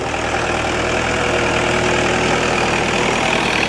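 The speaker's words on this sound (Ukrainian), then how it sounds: "О, який масей Фергюсон. 165." A Massey Ferguson 165 tractor with a three-furrow plough runs at an outdoor vintage machinery show in Switzerland, its diesel engine chugging loudly and steadily up close without letup.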